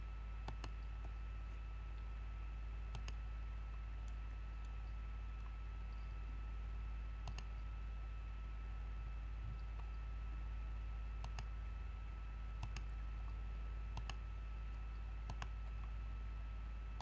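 A computer mouse gives a series of sharp, sparse clicks over a steady low hum of room and computer noise, with no voices.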